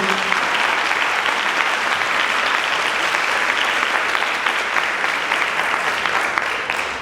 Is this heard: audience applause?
yes